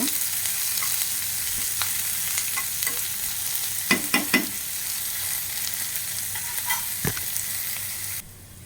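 Garlic, chillies and vegetables fry in a pan with a constant loud sizzle, with a few clinks and scrapes of stirring. The sizzle drops abruptly near the end.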